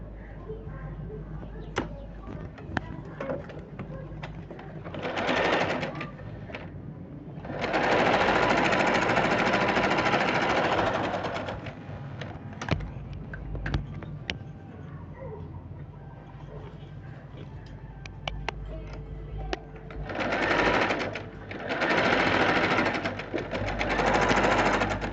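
A sewing machine stitches a kurti in a tailoring setting, running in several loud bursts of rapid whirring separated by quieter pauses with small clicks and handling noise.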